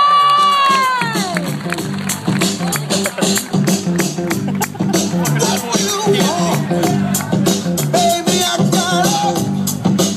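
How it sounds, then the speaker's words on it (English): Fans at an Essendon Football Club family day presentation raise a loud, sustained roar of cheering and clapping that holds steady across the whole stretch, dense and close, with a ringing tone in the opening seconds. "Let's have a big round of applause"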